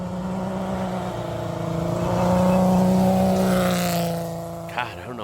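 A car climbing a dirt road in a nostalgia hillclimb race in Sweden, its engine droning and rising in pitch as it passes fairly close, with a rough burst of noise near the end.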